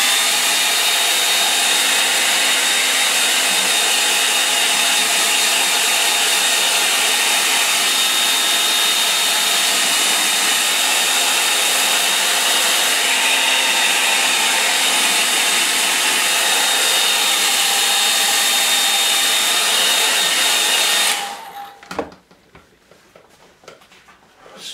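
A hair dryer blows steadily on ink line work on a watercolour painting, a loud, close, continuous whir that runs unbroken for about twenty seconds before cutting off abruptly.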